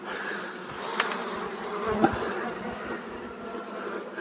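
Honeybees buzzing around an open hive during a spring inspection, a close, steady drone with a couple of louder passes from individual bees.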